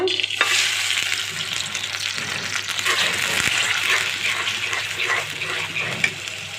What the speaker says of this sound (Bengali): তো আমার এই যে পেঁয়াজটা একটু ভাজা হয়েছে